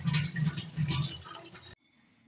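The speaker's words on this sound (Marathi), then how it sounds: "स्वच्छ धुवून घेणे" Cut potatoes being rinsed in water for Mumbai-style pav bhaji, a close sloshing and splashing with rhythmic swishes for under two seconds, then abrupt near-silence.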